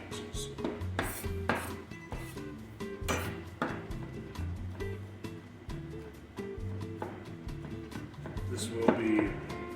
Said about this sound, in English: I'm going to chop your garlic down